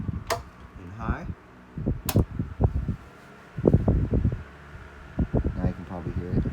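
A 1970s Galaxy Lasko 12-inch desk fan, model 3150, runs on high speed with a close, fluttering whir and buffeting gusts, while a person talks over it.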